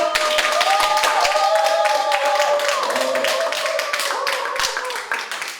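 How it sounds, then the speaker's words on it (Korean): Loud, dense clapping from a conference audience greeting a group leader's introduction, steady for several seconds with a musical tone running underneath. "많은 박수 부탁드릴게요"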